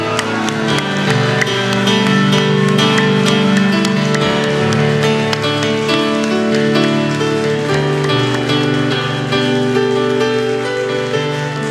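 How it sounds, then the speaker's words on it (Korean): A church congregation at a Christmas thanksgiving Sunday service claps steadily and loudly for the whole stretch, the dense patter blending with sustained music playing underneath. "더 큰 박수로 한 번 더 격려할까요?"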